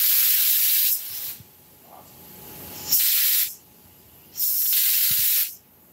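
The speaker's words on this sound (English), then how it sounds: "I'm going to spray glue on stuff" Spray glue hissing from an aerosol can onto fabric in three long, loud bursts of a second or more each, separated by quieter pauses, close up and alone.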